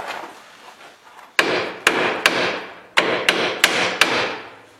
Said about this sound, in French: Donc je vais donner des petits coups de marteau.